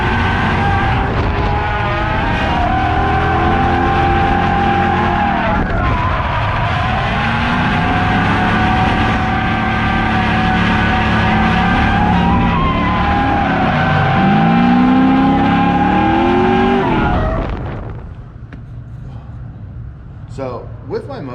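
A car at a motorsport event revving hard with tyres skidding, its engine pitch rising and falling through long sustained pulls, loud and close, then cutting off abruptly near the end to quieter background noise.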